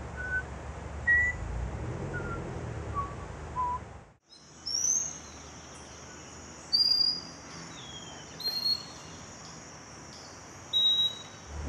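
Clear, high bird calls ring out from a wren in a commercial, arriving in short bright whistled phrases separated by pauses over a soft background hum, with an abrupt change in ambience partway through.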